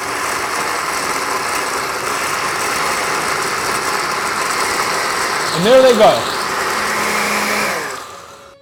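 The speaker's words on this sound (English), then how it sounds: "So basically, you've blended the tomato and water mixture into a fine sauce." A kitchen blender whirring steadily as it purees Roma tomatoes with water into a sauce, a constant motor drone with a short spoken remark partway through, before the motor winds down at the end.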